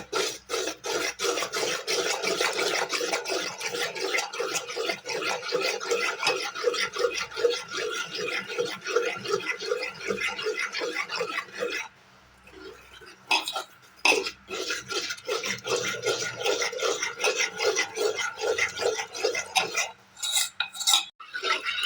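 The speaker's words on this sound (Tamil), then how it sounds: "ஆட் பண்ணி நல்லா கட்டி இல்லாமல் கரைச்சிக்கோங்க" Steady, rapid scraping and swishing of a utensil stirring ragi flour into water in a bowl, continuous and close, with a brief pause midway.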